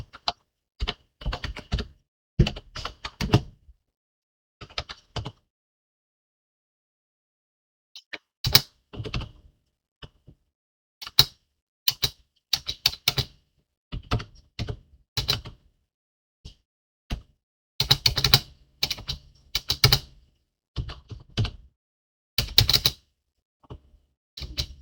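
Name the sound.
typing on a computer keyboard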